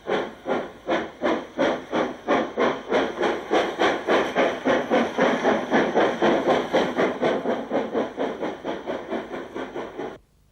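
A steam locomotive on the 12:15 departure from Tenterden toward Northiam, heavy rhythmic chuffs in a steady, slowly quickening beat, loud and close, with hiss between the exhaust beats before it cuts off.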